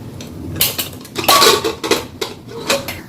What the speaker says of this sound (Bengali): মাটনের ঢাকাটা খুলিনি এখনো, দেখি কালারটা কেমন আসলো